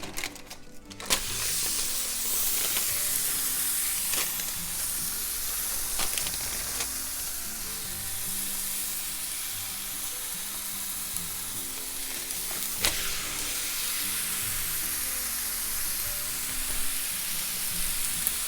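Smash burger patty frying on a flat top griddle, a loud continuous sizzle and crackle heard close up with occasional scraping clinks.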